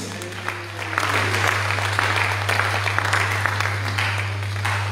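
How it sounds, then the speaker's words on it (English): Clapping from a church congregation fills a hall, a steady, moderately loud patter of many hands over a constant low hum, with faint voices mixed in. "Clap for Jesus"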